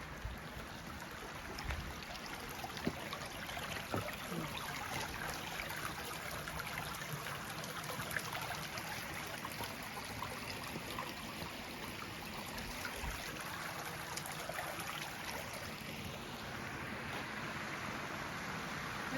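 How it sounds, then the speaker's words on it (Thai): A small, clear, cool stream in Thailand, near a waterfall, flowing with a steady soft trickle and gurgle at close range, faint and continuous without talk. "คลองเล็กน้ำใสไหลเย็นนะคะน้ำใสมาก"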